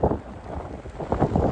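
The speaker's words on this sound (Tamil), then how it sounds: "காற்றும் மழையும் நல்ல பலமாக இருக்குது." Strong storm wind blows at the seashore, with rough, gusty buffeting roaring close to the microphone in short surges.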